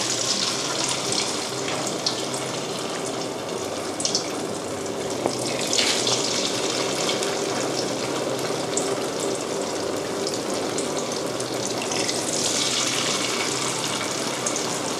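Raw taro pieces frying in oil over medium-to-low heat, a steady, loud, continuous sizzle and bubbling that holds evenly throughout without pause.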